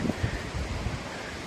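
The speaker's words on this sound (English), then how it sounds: "It's a very windy storm." Strong windstorm blowing across an outdoor area where a giant pine tree has been knocked down, heard as a steady, loud rush of gusting wind with low buffeting rumble against the microphone and no talk.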